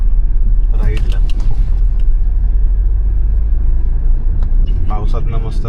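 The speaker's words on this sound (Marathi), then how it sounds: "पावसात ना मस्त गाडी घेऊन फिरतोय मी" A car drives through rain on the road between Mumbai and Alibag, a steady loud engine rumble and road noise running throughout, with passing vehicles briefly rising above it.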